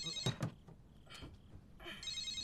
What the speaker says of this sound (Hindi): उसका फोन आ रहा है, उठा, मुझे दे।